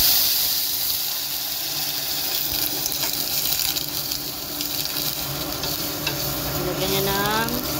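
Water pours into a pan where small pasta is browning in oil, giving a loud, steady sizzle with stirring and splashing throughout, close by.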